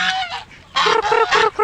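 A goose honks loudly and close beside a chicken coop, giving a quick run of about six harsh, nasal calls with brief gaps between them.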